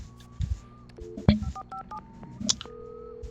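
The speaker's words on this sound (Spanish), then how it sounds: "Vale, aquí está el teléfono." A telephone being dialed in Alan Wake Remastered: a run of short electronic keypad tones of varying pitch, with a few soft clicks and bumps, moderately quiet and without talk.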